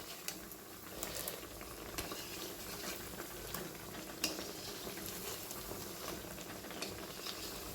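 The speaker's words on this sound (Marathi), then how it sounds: "अशा पद्धतीने आता इकडून थोडंसं तळून घेऊया आणि छान कलर येऊ देतो" Sabudana vada shallow-frying in hot oil, a quiet, continuous low sizzle and bubbling with occasional faint utensil taps, heard close but soft throughout.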